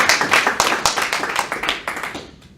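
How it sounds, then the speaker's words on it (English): A live talk-show audience claps loudly for a couple of seconds, the applause fading out at the end. "Please. Round of applause."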